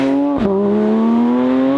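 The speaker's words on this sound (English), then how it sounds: "It's got a louder engine, road noise is about the same" The engine of a Porsche GTS Lightweight with a six-speed manual gearbox gives a loud, close, steady drone inside the cabin, with a brief dip early on like a quick gear change before the tone settles and slowly rises.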